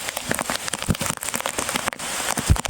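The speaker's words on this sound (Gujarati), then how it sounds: "તો અત્યારે તો તમે ફૂલ વરસાદ આવે છે" Heavy rain pours down on Mount Girnar, a dense, loud hiss with sharp drops spattering on a hard surface close by and water running down the steps, continuous throughout.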